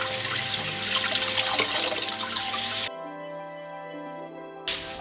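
Tap water pours steadily over Chinese cabbage as it is rinsed for kimchi, a loud continuous splash for about three seconds before it cuts off abruptly into a quieter, tonal tail.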